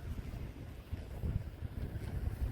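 Low, gusty wind buffets and rumbles steadily with uneven surges throughout, recorded about ten feet off the ground near a flying drone, fairly faint, with no voices.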